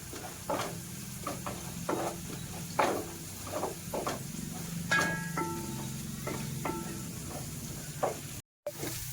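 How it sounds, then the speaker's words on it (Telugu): Ginger garlic paste fries in hot oil, a continuous soft sizzle broken by repeated scraping stirs and clinks of a spoon against the pan, close and moderately quiet. "అల్లం వెల్లుల్లి అన్నది కొంచెం పచ్చివాసన పోయి మనకి కమ్మగా అనిపించేంత వరకు వేయించుకోవాలి ఆయిల్లో"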